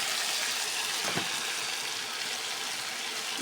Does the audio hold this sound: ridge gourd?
yes